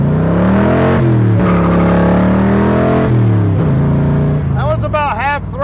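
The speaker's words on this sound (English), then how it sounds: "About half throttle in the small block." A 1965 Shelby Cobra's small-block V8 pulls at about half throttle, its loud engine note rising and shifting pitch from close by, with a voice speaking near the end.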